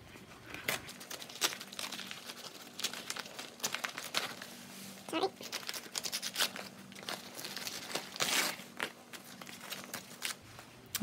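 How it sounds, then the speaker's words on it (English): Embroidery stabilizer is torn away from an in-the-hoop machine embroidery door hanging: repeated close crinkly rips and paper rustles come in irregular bursts over a faint steady hum. "now you can tear away the stabilizer."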